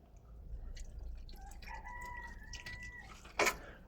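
Hungry chickens kept at a home on a February morning, with one bird's drawn-out call rising over a soft, steady outdoor background and a brief sharp noise near the end.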